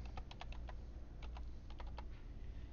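Typing on a computer keyboard while entering a heading into an Excel sheet: quick runs of light key clicks, a short pause, then another burst of keystrokes over a faint steady hum.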